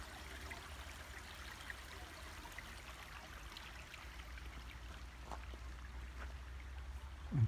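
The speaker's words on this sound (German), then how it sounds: "Hier ist der kleine Fluss, den wir vorhin rauschen hören haben." Steady broadband rush of a small mountain river flowing nearby in Pirin National Park, Bulgaria, continuous and even throughout, with a brief low thump near the end.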